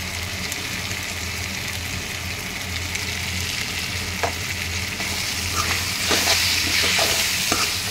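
Chettinad mutton sukka fries in oil in a pan, a steady broad sizzle with sharper crackles and spatters growing busier toward the end, close and alone.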